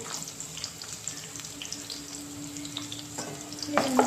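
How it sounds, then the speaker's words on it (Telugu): Onions and green chilli fry in oil, giving a continuous close sizzle and crackle that grows louder and busier toward the end, with occasional light stirring. "మంచిగా ఫ్రై బాగా ఫ్రై అయిపోవాలి ఇది ఉల్లిగడ్డలని"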